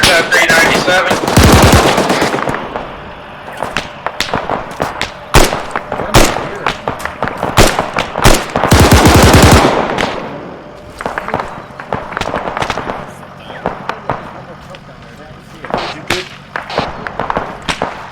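Loud machine gun bursts from an Arma 3 military operation ring out in clustered volleys, with heavy rattling runs early and around the middle, then scattered single cracks and quieter pops later on.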